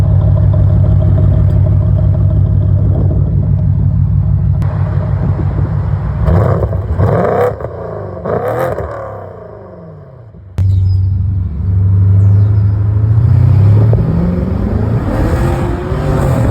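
A modified BMW 550i V8 roars through repeated revs, a loud deep exhaust note climbing and falling, dropping to a quieter lull before firing back up into a strong rumble near the microphone.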